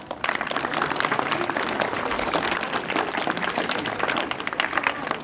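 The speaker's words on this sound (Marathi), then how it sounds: "सर्वांनी टाळ्या वाजवा" Sustained clapping from an audience after a children's Shivaji Jayanti performance, steady and moderately loud with a faint crowd murmur underneath.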